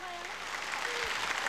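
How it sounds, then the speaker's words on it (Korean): Studio audience applause during a 1983 KBS television broadcast reuniting separated families, a steady wash of clapping that stays even throughout, with a voice talking over it. "닮았으면 박수를 쳐주시기 바랍니다"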